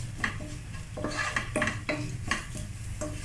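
A spoon stirs palak paneer masala in a pan, making a quiet, regular run of scraping strokes over a faint low sizzle.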